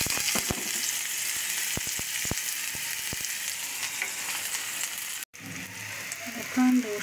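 Hot oil sizzles in a kadai before pangas fish is cooked, a steady close hiss dotted with sharp crackles, cut by a brief silent gap near the end.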